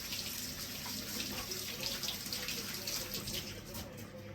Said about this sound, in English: Rinse off my hands then.